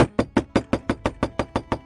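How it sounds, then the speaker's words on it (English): Knocking at a door: about ten sharp, evenly spaced raps in a quick steady rhythm, close and fairly loud, with no voices. "And there was a knock at his door."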